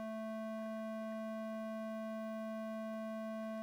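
A synthesized Web Audio tone playing through a high-pass filter, a steady sustained buzzy pitch with stacked harmonics, constant and even in level throughout.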